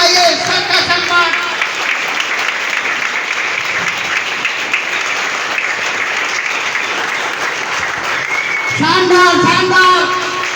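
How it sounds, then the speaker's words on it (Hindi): Crowd at a leadership meeting in Mau gives sustained applause to the leader, a steady wash of clapping filling the room, with a voice speaking over it at the start and again near the end. "हाथ उठा करके सम्मान में जबरदस्त ताली होनी चाहिए।"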